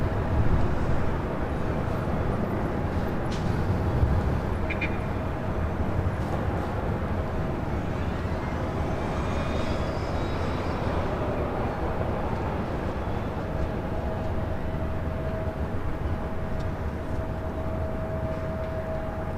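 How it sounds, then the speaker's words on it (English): An Airbus A321 jet touches down on a runway at LAX, heard as a steady, broad roar of engine and airflow noise with a faint high whine, holding loud and even for the whole stretch. "Airbus 321 touching down"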